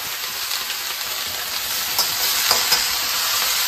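Spring onions and mushrooms are stir-fried in a pan, producing a continuous, bright, hissing sizzle, close and steady, with a few soft scrapes as they are stirred.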